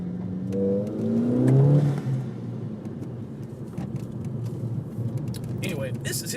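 A 2007 Volkswagen GTI engine revs and accelerates, a rising whine that peaks early and then settles into a steady road drone, with a voice talking over it.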